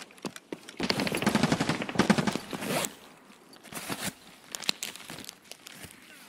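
Rapid automatic gunfire in a video game, a dense loud burst of shots followed by scattered single shots and clicks, with no voices.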